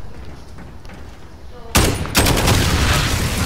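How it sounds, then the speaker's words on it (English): Explosion and bursts of gunfire in the shooter game Modern Warfare: quiet ambience, then a sudden loud blast followed by sustained rattling fire, close and dense to the end. "Ooh, explosion."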